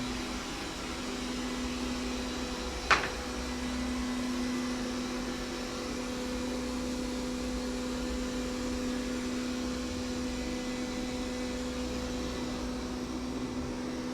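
A Xiaomi S1 robotic vacuum cleaner runs with a steady whirring drone and a constant tonal hum, broken once by a brief click, and nobody talks over it.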